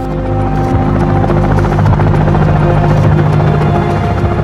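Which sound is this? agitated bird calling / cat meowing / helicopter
helicopter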